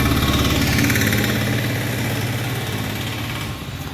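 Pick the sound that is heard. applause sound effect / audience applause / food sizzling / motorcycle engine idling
motorcycle engine idling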